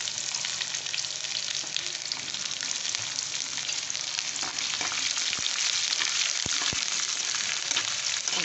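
Onion and finely chopped ridge gourd fry in a pan for Telugu pappu, producing a loud, dense, continuous sizzle with a few faint clicks of stirring near the end and no voices.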